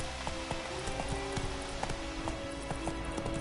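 Hooves of the horse Roach in the video game The Witcher 3 clip-clop in a steady quick rhythm, close and clear, over a constant background of rain-like hiss.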